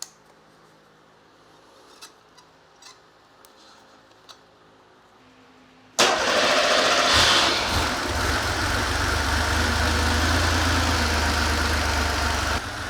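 Porsche 911 with the 3.2L flat-six fires up after a few seconds of quiet workshop ticks, then settles into a loud, steady idle around 850 rpm with a low rumble, close to the engine.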